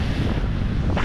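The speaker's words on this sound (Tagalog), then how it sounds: "pasensya na ho, malakas ang hangin. Kaya medyo maingay, malakas po ang hangin." Heavy wind in Claver, Surigao del Norte buffeting the microphone, a loud, rumbling low-frequency roar that stays constant throughout.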